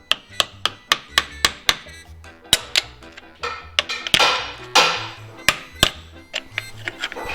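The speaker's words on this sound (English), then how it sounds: "Hammer." Sharp metallic hammer blows ring out in a quick series while fitting a truck U-joint, then a short pause with rustling, followed by more scattered strikes, close and loud.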